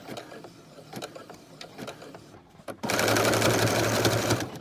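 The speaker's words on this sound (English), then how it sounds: "This has got to be a functional piece of sewing, so the more times I go over it, the better." A home sewing machine stitching a duvet cover, with repeated passes over the same seam: rapid, evenly ticking stitches up close, a brief pause, then a loud, steady whirring run at full speed to the end.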